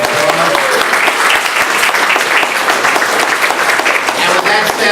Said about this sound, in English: we should just give them a round of applause.